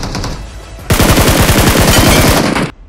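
Automatic gunfire in the battle royale game BGMI: a loud, sustained rapid-fire burst of closely spaced shots lasting nearly two seconds, following a quieter stretch of game ambience and cutting off abruptly.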